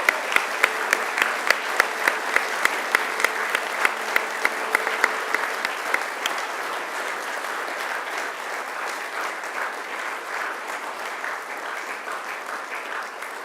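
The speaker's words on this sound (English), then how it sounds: "I now invite you to give them a mighty round of applause." A graduation-ceremony audience applauding new graduates, a broad wash of clapping with distinct sharp individual claps standing out early, sustained for the whole stretch and easing slightly toward the end.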